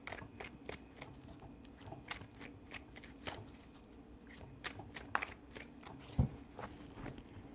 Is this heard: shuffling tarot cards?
yes